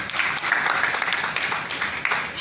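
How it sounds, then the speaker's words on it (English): An audience at a university medical faculty event claps briefly, a short burst of scattered, fairly close applause that stays fairly even through its couple of seconds. "Please, a round of applause."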